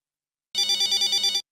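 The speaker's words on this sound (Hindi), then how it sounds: "फोन उठाइए।" A telephone bell rings in an Indian sitcom household scene, a steady trilling ring of about eight rapid pulses lasting under a second, loud and alone with no talk over it.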